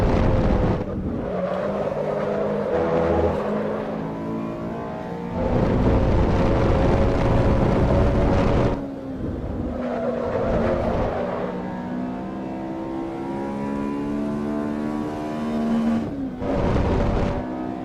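A stock Honda S2000 engine in the Assetto Corsa EVO racing simulation howls under throttle, climbing through revs, then dropping in pitch at gear shifts and rising again.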